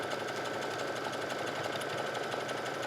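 A sewing machine stitching an elastic casing along the folded waistband of kids' leggings, running in a steady, fast mechanical whir with rapid needle rhythm, close and alone.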